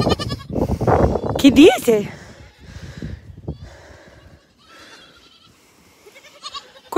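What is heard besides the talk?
goats bleating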